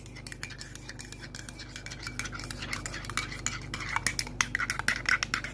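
A spoon stirs a mix of Pepsi Max Cherry and Fanta Grape in a glass, its quick clinking taps growing louder and faster toward the end, close and with no talking.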